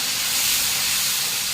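Tempering of curry leaves, chilli and tomato hits mung bean curry with a loud, steady, close hiss that stays even throughout with no talk.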